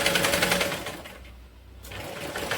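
A sewing machine stitches waste cloth into a doormat with a loud, fast, steady whir that pauses briefly near the middle and then resumes, with no voices.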